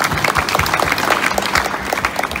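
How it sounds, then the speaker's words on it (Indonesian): Audience applause at a school flag ceremony for Independence Day, a steady crowd of hands clapping together throughout without talk. "boleh tepuk tangan."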